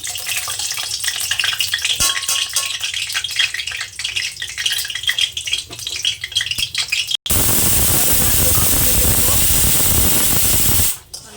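Ghee poured into hot oil in a heated wok gives a sudden loud, steady sizzle lasting a few seconds before cutting off, after a stretch of quieter kitchen clatter with some talking.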